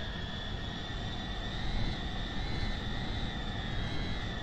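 Engine and motor sounds from a vehicle in the Patrol Mars video game: a steady, continuous jet-like whine with sustained tonal layers that shift slightly in pitch, constant and fairly loud throughout with no talk.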